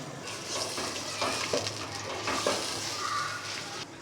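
Spices with black pepper roast in a pan, giving a soft, steady sizzle with light scraping stirs, fairly faint and continuous with no talking.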